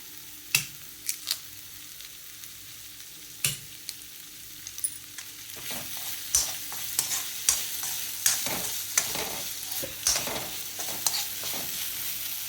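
Raw mango rice masala being roasted and stirred in a pan, with a soft sizzle under repeated sharp scrapes and taps of a spoon against the pan, close and fairly quiet.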